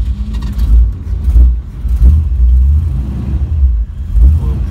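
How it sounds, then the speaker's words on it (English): A 1956 Ford Fairlane Crown Victoria coupe with a 351 Windsor V8 is heard in a deep, loud, close engine rumble that rises and falls in several rev-like surges, with no talking. "Let me just fire the car up if I can."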